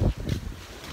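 Gusty wind buffets the microphone outdoors at a Mexican resort on a windy day, a rough low rumble that surges at the start and then settles into a steady blustery roar.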